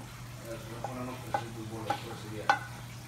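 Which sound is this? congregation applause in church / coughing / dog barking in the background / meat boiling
meat boiling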